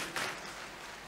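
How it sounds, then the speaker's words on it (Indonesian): Church congregation applauding during a Sunday sermon, a brief burst of clapping swelling early and then settling into a steady, fairly faint wash of scattered claps. "Boleh berikan tepuk tangan bagi Tuhan Yesus."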